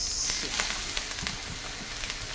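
Chorizo de Bilbao, egg and carrots sizzle in a pan while fried rice is sautéed, a steady close frying hiss with scattered crackles and faint stirring knocks, no talk over it.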